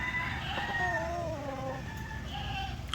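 Asil rooster crowing among chickens on a farm, a drawn-out crow with layered harmonics rising and falling close by, with other hens and fowl calling faintly in the background.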